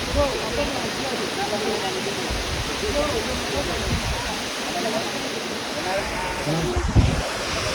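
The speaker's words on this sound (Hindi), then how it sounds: "ये देखो पानी जो है इस तरह से बह के आता है" Water at Phe Phe Falls in Meghalaya, India, rushes and roars in a dense, constant wash of sound, loud and close, with wind buffeting the microphone and a person talking over it.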